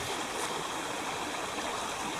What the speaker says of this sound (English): Another brook crossing.